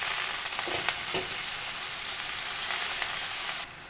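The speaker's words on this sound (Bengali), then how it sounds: "এবার আস্তে আস্তে করে এর ভিতরে শাক দিয়ে দেবো" Chui greens going into a pan of frying fish, a steady bright sizzle with a few soft stirring knocks, cutting off abruptly near the end.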